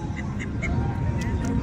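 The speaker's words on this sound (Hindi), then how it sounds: "एक और बतख" A duck quacks a few times in short nasal calls close by at a lakeside in Queenstown, heard over steady outdoor background noise.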